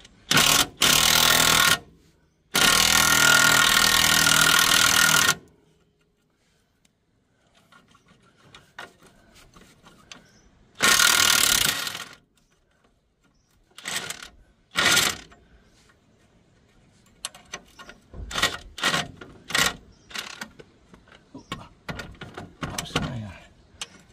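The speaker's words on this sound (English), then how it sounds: "if I hold it, it should spin and hopefully it should drive the bolt out that way" A power tool spins to drive out a front strut bolt on a 2007 Kia Sorento, with loud, sustained whirring bursts near the start and again around the middle, followed by shorter intermittent mechanical bursts and clunks.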